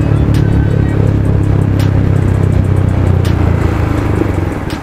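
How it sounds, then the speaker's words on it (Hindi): Yamaha MT15 motorcycle engine sputtering and jerking as its petrol runs out, a loud close rough idle with uneven clattering pulses and occasional sharp knocks, no voices. "बाइक झटके दिए दे रही है, अभी आपने देखा बाइक बंद हो चुकी थी, ये देखिए झटके दे रही है।"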